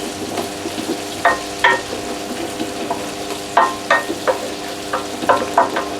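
Onions and smoked bacon lardons brown in a pot for boeuf bourguignon, a steady low sizzle punctuated by repeated spoon scrapes and clicks against the pot, near and moderate.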